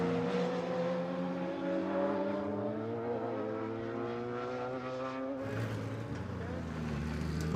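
GT Cup race cars roll out to start a race at Anglesey in the 2008 season, a steady droning engine note with harmonic whine that shifts pitch as cars pass, under a commentator's voice.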